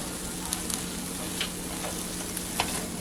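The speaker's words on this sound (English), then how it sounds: "We're gonna let these saute for a few more minutes." Seasoned food sautés in a pan, giving off a continuous soft sizzle with occasional light pops and faint stirring clicks at close range.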